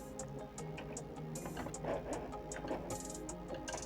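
An FHSM-505A sewing machine stitches at a quiet, steady pace, its needle mechanism giving a soft, rapid ticking rhythm with faint repeated clicks, close by and without talk.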